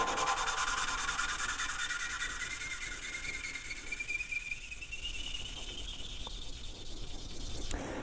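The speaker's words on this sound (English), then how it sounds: "as you lap the valve with this valve grinding compound" An engine valve is lapped against its seat with valve grinding compound on a Lamborghini Gallardo Superleggera V10 cylinder head, giving a steady close gritty rubbing and scraping that continues throughout.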